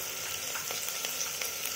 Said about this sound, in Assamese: আদা নহৰুৰ পেষ্টখিনি যেতিয়ালৈ কেঁচা গন্ধটো নাযায় তেতিয়ালৈ আপোনালোকে ধুনীয়াকৈ ভাজি থাকিব